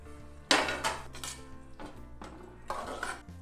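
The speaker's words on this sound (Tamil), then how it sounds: "இப்போ கிளறி விட்டுடலாம்." A utensil clanks and scrapes against the pot while homemade spicy chicken dum biryani is stirred, with a few loud metallic strokes separated by short pauses and nobody talking.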